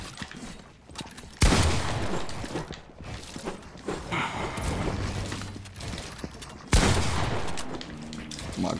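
Shotgun blasts in a video game ring out in loud, broadband bursts, with a heavy shot near the start and another later, amid ongoing gunfire and rumbling action noise.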